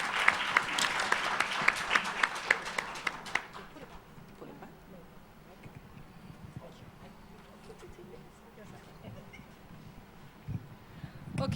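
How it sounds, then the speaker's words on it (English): Audience applause for a conference panel breaks out loudly at first, dense clapping that thins and fades after about three seconds into a quieter room murmur with scattered claps. "please give our panelists a round of applause"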